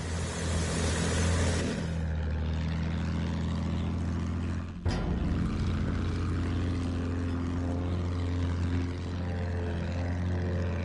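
A propeller fighter plane in Battlefield 1 drones with a steady, loud engine hum that shifts pitch early on. A sharp burst cuts through midway before the droning resumes, and no one speaks over it.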